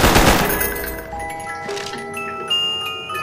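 HK gun firing in Black Ops Zombies on the Kino der Toten map: a burst of rapid shots at the start, then ringing tones and game effects trailing off over a few seconds.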